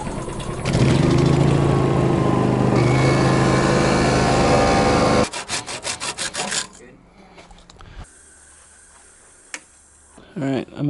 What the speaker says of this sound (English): So the compressor actually needs to be run really quick so we can get more air in here